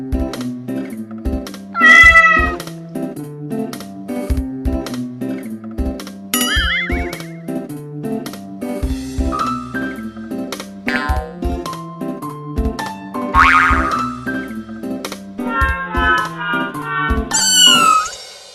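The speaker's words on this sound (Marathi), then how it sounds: "आठवतेय का ही मांजर?" A cat meows several times, with short distinct calls scattered over a steady, rhythmic musical backing.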